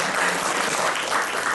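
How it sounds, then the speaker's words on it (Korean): A church congregation applauds newly admitted seminary students at a Methodist theological school entrance ceremony, dense continuous clapping filling the hall for a brief stretch. "이 4분을 박수로 환영해 주시기 바랍니다."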